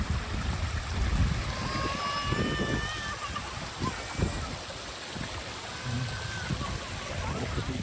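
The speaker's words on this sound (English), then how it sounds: "We can see the water feature here first of all" Steady splashing and rushing water from a fountain at the Piece Hall in Halifax fills the scene, with distant voices and a few high bird chirps over it.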